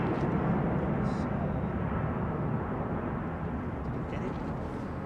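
An airliner departing London Heathrow Airport roars overhead as a broad, loud, steady rumble that fades slowly, with a few faint voices nearby.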